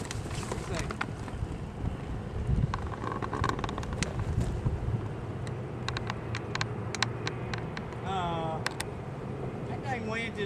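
Strong wind buffets the microphone at a hang gliding site on a bluff, a steady rumbling roar that barely lets up, while people talk faintly underneath it.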